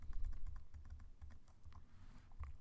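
Keys clatter on a computer keyboard as Java code is typed, a quick uneven run of close, soft clicks with no voice over them.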